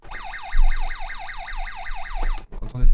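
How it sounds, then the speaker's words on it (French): A car alarm blares loud and close, its rising and falling whoop repeating in a steady cycle for over two seconds before cutting off abruptly amid room noise. "Attendez, c'est mon alarme."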